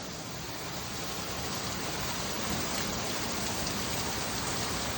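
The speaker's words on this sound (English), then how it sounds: "Sun is shining and it's raining at the same time." Rain falls steadily while the sun shines, a dense, even hiss of drops on surfaces that holds at constant loudness throughout without any voices.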